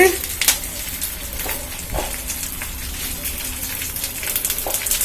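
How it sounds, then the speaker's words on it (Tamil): Onion and curry leaves fry in a pan for a three-leaf green chutney, a soft continuous sizzle with occasional sharper crackles and stirring clicks, fairly close and moderately quiet. "இந்த வெங்காயமும் போட்டாச்சு. வதக்குவோம்."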